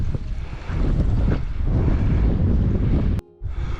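Strong wind gusts roar across the microphone on an exposed hillside in the Brecon Beacons during a descent toward an old reservoir, a continuous heavy rumble that drops out briefly near the end.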